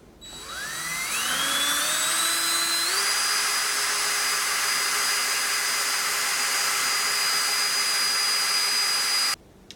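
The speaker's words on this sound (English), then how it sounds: "I basically have to use the entire length of the drill bit here" A power drill bores deep into a long stabilized knife handle with epoxy for a seax, a loud steady whine that rises in pitch as it spins up, then holds continuously for several seconds before cutting off abruptly.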